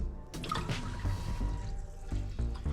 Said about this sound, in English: gonna add a little bit of water